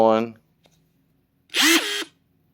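A compact cordless impact wrench with auto bolt release gives one short, loud whirring burst under half a second long, after the tail of a voice and a pause.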